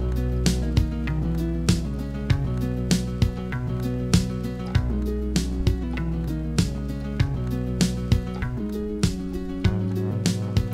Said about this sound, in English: This means I can now kind of bend the pitch of the clips as they're playing without re-triggering them from